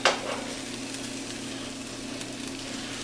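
Egg nog French toast sizzles steadily in a frying pan after a sharp scrape or clatter as pieces are flipped, a constant close frying hiss with no talk.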